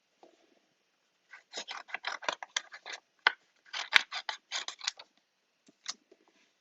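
Scissors snip through a cork piece for a stamping craft, a run of quick, crisp close-up cuts in bursts with short pauses, then a couple of final trims, with no talking.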